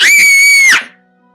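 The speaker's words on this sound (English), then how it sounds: "Gretel pushes her in and the witch screams" A witch lets out a single loud, piercing scream lasting under a second, tonal and sustained before cutting off abruptly into quiet, in a children's Lego retelling of Hansel and Gretel.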